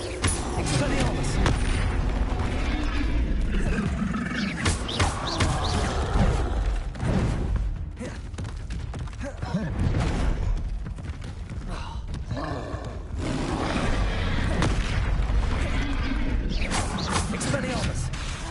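Spell blasts fire off in Hogwarts Legacy combat as Expelliarmus and Confringo are cast, a run of booming impacts and mechanical clatter repeating over a steady loud bed, with a voice speaking at times.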